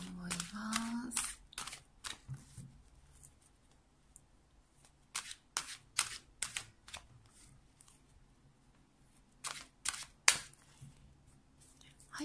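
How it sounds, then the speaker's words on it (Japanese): Romance Angel oracle cards are shuffled by hand in a run of crisp, separate slaps and riffles that start, pause and start again, close to the listener, with a brief voice at the start. "ロマンスエンジェルオラクルカード、はい、こちらをねシャッフルしていきたいと思います"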